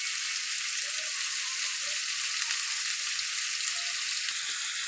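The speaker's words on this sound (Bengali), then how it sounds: "ভাজি করার জন্য করলা প্রথমে দিয়ে দিচ্ছে, মাছগুলো দিয়ে দিয়েছে" Bitter gourd (karela) and fish fry in a pan of hot oil, a steady, even sizzle with fine crackling and no talk, moderately quiet and close.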